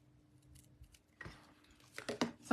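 Scissors snip through paper for a stamping craft, a few close, crisp cuts clustered near the end after a quieter stretch of faint handling noise.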